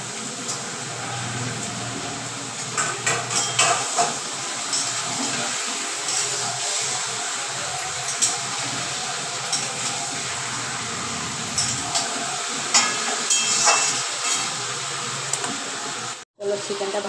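Chicken pieces fry in a pan over browned onions, making a continuous broad hissing sizzle punctuated by intermittent clatter and scraping from stirring, with a brief cut near the end.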